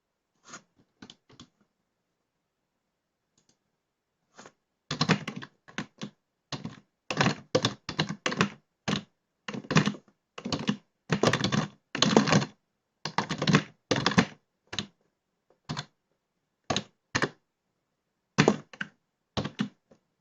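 Computer keyboard typing in bursts, clusters of crisp, close key taps and clacks with short pauses between runs, starting sparse and then growing steady and busy throughout.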